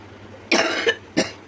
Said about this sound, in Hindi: खांसी आती है ना, खिंच पड़ जाती है।